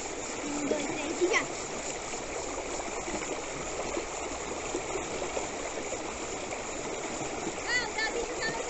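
Children splashing and diving in a rain-swollen stream, a broad steady rush of running water throughout with a few brief louder splashes near the start and faint children's voices scattered over it.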